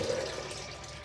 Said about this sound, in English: I have to run a bucket of water first